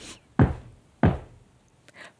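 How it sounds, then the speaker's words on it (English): Two heavy, pounding knocks on a door, evenly spaced and close, each thud ringing out briefly, followed by a faint softer tap and rustle. "there was a pounding at the door"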